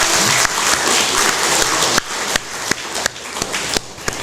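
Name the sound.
congregation applauding in church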